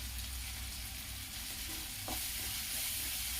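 Masala sizzles steadily in a pan on low heat for kadhi pakora with coriander powder and Kashmiri red chili, as a spoon scrapes and stirs through it. The close, continuous frying hiss carries no talk.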